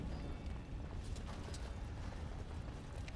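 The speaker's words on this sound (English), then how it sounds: "I can't think when there's that goddamn fire sound" Dense, continuous roaring crackle of fire burning in Dragon Age, a loud low rumble with flickering pops running steadily throughout, no talking.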